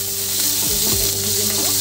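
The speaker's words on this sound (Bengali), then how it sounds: "বেগুনটাকে ভেজে নেব" Small eggplant (brinjal) rubbed with salt and turmeric fries in oil left over from frying fish, giving a steady loud sizzle with a few spatula scrapes and knocks in the pan.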